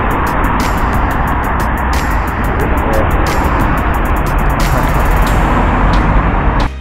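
Heavy road traffic in the city of Tuzla, Bosnia, makes a loud continuous roar of engines and passing vehicles, with rumbling low-end noise and wind buffeting throughout.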